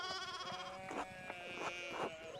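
Sheep in the Pentiment video game bleat several times in a row, wavering calls that overlap a sustained musical drone, fairly quiet and close, with no talking.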